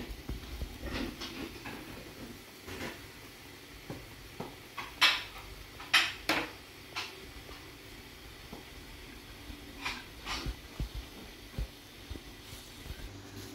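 A spoon stirs homemade khoya into milk cooking in a pot, giving repeated scraping clinks against the metal with a few sharper knocks, moderately close and without talk.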